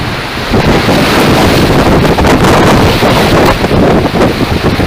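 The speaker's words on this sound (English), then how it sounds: "Windy!" Strong gusts buffet the microphone, producing a loud, continuous rumbling roar with no other sounds coming through.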